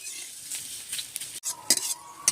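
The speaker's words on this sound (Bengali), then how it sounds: "নেড়ে চেড়ে নিচ্ছি একটু সিমাইটা ঘিয়ে ভাজলে একটু বেশি ভালো লাগে খেতে" A spoon stirs vermicelli frying in ghee in a pan for a vegetarian meal, with irregular scraping and clinks against the metal over a steady soft sizzle, close and fairly loud. Nobody speaks.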